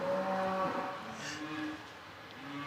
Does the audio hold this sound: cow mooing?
yes